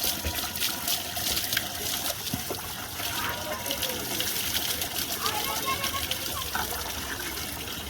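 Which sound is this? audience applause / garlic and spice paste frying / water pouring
water pouring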